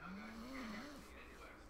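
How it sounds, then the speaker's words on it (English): Zelda the dog snores in a faint, low drawn-out rumble with a wavering pitch that rises and falls over a single breath, heard close but quietly against a soft background hum. "God, your dog is snoring."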